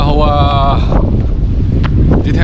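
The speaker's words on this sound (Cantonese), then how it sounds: "唔知聽唔聽到我講嘢，因為好大風啊呢度。" Strong wind at Folkestone harbour buffets the microphone with a heavy, continuous low roar, and a voice speaks briefly at the start before the gusts dominate.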